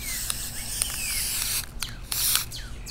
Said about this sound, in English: just lightly spraying it on